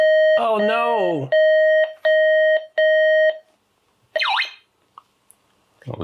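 Electronic beeps and tones from a Sanyo PHC-25 computer, then a quick sweeping synthesized zap like a sci-fi laser, with short gaps of silence between bursts.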